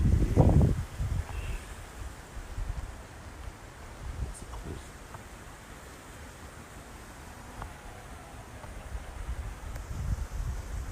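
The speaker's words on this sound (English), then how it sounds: "it's really windy up here and I'm freezing" Steady wind rushes and buffets over the microphone at a high outdoor spot, a low continuous roar with gusty swells and no talking.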